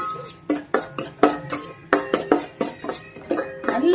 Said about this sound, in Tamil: இந்த ரவையை இதுக்குள்ள போட்டு அந்த நெய்யோடு சேர்த்து நல்லா வதக்கணுங்க நம்ம